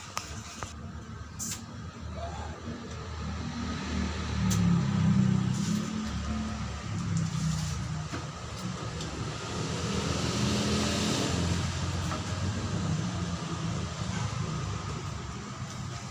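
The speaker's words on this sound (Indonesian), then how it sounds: "Di sini saya akan memperbaiki kompresor AC pada mobil Kijang Kapsul bunyi kasar saat AC dihidupkan." A rough, growling AC compressor runs on a Toyota Kijang Kapsul with the air conditioning switched on, a steady low mechanical drone with hiss that swells and eases over the whole stretch, with no talk.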